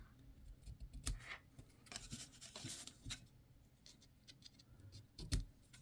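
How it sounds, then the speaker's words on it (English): Small snips cut the ends of a gatefold card's binding off at an angle, giving several brief, quiet clicks and snaps at close range over a soft rustle of paper handling, with no talk. "I'll use my little snips here and cut the ends off at an angle"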